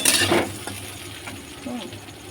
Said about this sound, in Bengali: এটা ভাজে ভাজা করে নেব